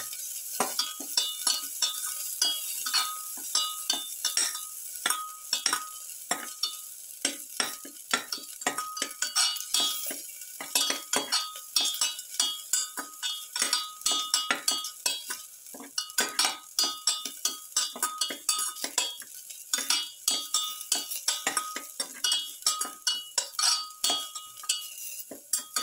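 Onion and salt stirred in a hot pan, a long run of quick, close clinks and scrapes of a utensil on metal over a steady sizzle, without talking.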